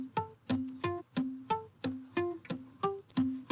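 A heavily distorted electric guitar in a music production hits short, evenly spaced stabs that land between beats, each punchy note decaying quickly, fairly quiet and alone.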